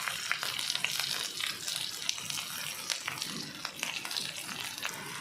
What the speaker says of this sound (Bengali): লবণ, হলুদ, মরিচের গুঁড়ো, আদা রসুন দিয়ে এবার এগুলোকে আমি ভালো করে ভেজে নেব